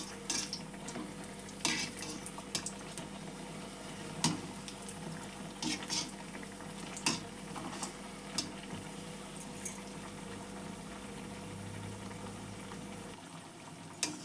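Potato bajji fry in hot oil, a constant bubbling sizzle punctuated by repeated sharp clinks and stirring knocks at close range.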